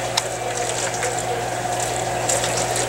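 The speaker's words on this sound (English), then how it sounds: "Then I'd add a little bit of water." Water is poured from a small container into a plastic plant cloning tray holding cuttings. It makes a steady, close, moderately loud trickle with a faint hum underneath that lasts about three seconds, and no one talks.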